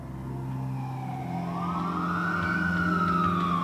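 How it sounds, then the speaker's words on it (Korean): An ambulance siren wails, rising and falling in pitch, moderately distant, over the low hum of traffic. "구급차는 캔자스시티에 있는 메디컬 센터로 디어드르를 후송했다"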